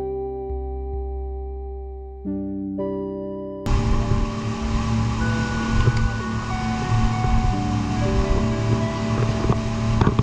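A passenger boat ride off Antigua on an excursion to Stingray City and the reef: sustained tones at first, then loud rushing wind, engine and splashing waves that roar steadily to the end.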